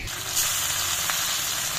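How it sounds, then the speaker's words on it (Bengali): Rohu fish pieces frying in hot oil in a wok over a village clay stove, a steady close bright sizzle with no talk. "মাছটা ভেজে নেব"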